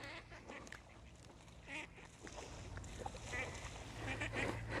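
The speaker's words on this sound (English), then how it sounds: "The ducks are having a fight over there." Ducks quacking and squabbling at a distance across water, scattered harsh calls rising and falling over a constant outdoor background hum.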